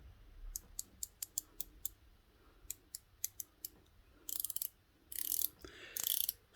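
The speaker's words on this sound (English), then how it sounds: "The bezel on this is a 120 click unidirectional bezel, and I'll be quiet so you can hear it." A 120-click unidirectional bezel on a vintage-inspired automatic 100m dive watch turns in short runs of crisp, evenly spaced ratcheting clicks, close and fairly quiet, broken by a few brief rustling handling noises.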